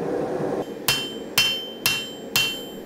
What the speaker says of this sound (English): Many hours of hot hammering.